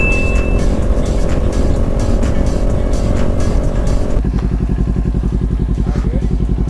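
A Kawasaki Ninja 400 motorcycle roars at high revs on the road, its engine note dropping as it shifts gear midway and then pulsing steadily; loud and close, with no talk.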